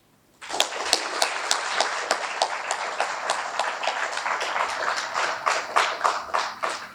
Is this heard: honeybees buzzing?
no